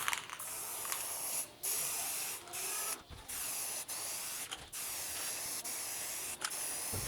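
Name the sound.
black spray paint can spraying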